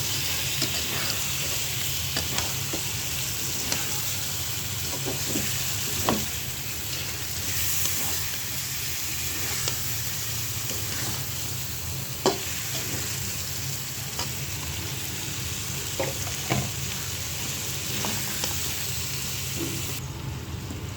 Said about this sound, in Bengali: 1 টেবিল চামচ জিরা ধনিয়ার গুঁড়া, দিয়ে দিলাম। একটু কষিয়ে নেব।